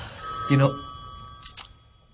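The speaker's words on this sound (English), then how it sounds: "that's the phone ringing here" A telephone rings twice in a recording studio during drum sessions, two short bright bursts about a second apart against faint background hum.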